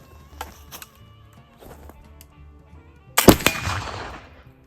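A single sharp, loud rifle shot fired over a chronograph cracks out after a few quiet seconds of faint handling clicks, then rings and decays briefly.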